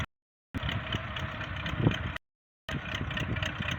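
A YUMZ-6 tractor engine runs in a muddy field while discing a garden after rain, a close, steady mid-to-low rumble broken by two short silent gaps.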